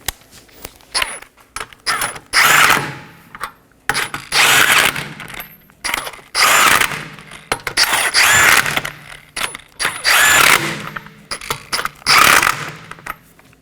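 Rear brake parts on a 2015-2023 Nissan Maxima are snugged down in a crisscross pattern with a tool, giving bursts of loud close ratcheting and clicking separated by short pauses and metallic handling sounds.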